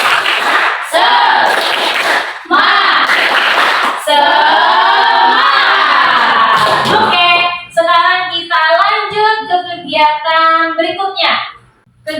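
A school class chants a rhythmic 'tepuk semangat' cheer together, with loud bursts of group clapping and shouting early on, then a teacher's sung and spoken lines close and clear.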